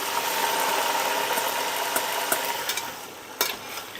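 Onion and mutton frying in oil as a cook stirs them in a pot, a continuous close sizzle with scattered scraping knocks of the spoon, no voices.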